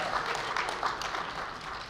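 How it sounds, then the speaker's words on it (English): A seated audience gives a round of applause for a public speaker, producing a steady wash of many hands clapping at moderate distance that stays fairly soft and even for its whole length. "Give him a round of applause."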